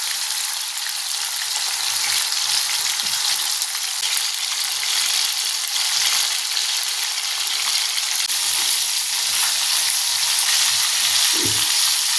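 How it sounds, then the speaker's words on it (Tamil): Marinated chicken fries in a pan for kuzhambu, a loud continuous hissing sizzle that stays steady throughout with the occasional stir, and no talking. "சிக்கன் பிணைஞ்சி வச்சது அரை மணிக்கூர் ஆச்சு, வறுத்துக்குவோம்."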